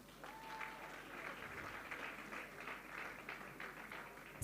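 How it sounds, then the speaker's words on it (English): Audience applause at a live community event in Thembisa, steady clapping from a crowd that holds at an even level for several seconds before a sharp burst at the very end. "Round of applause."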